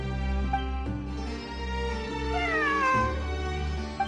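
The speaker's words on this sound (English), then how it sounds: "It really is a cat." A cat meows in the Genshin Impact video game, a single drawn-out, rising-then-falling cry set against sustained musical tones, close and clear with no talking.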